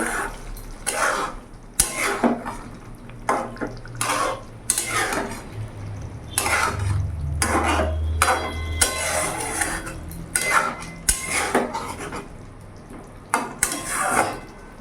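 Fried eggs being stirred into a potato egg curry in a pan, with repeated scraping and clinking of a utensil against the pan in an irregular rhythm, close and fairly loud over a low sizzle.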